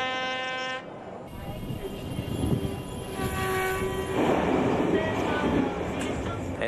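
A train passes with a long sustained horn blast, followed by rumbling wheels and rattling cars rolling by at close range, the noise swelling and lasting to the end.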